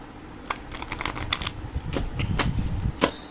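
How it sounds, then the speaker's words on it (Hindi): Mist of Avalon tarot cards are shuffled by hand in a series of quick, crisp riffling slaps and flutters, fairly close and clear, with no speech. "कार्ड्स शफल करती हूँ मैं।"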